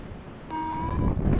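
Mountain wind gusts steadily against the microphone at minus eight degrees during a paragliding hike at Ganwoljae, a continuous rushing roar that swells slightly midway.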